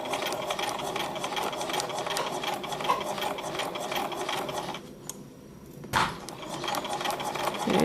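A sewing machine stitches a straight line with a back stitch, its rapid needle clatter running steadily and close, pausing briefly before a short burst and then resuming.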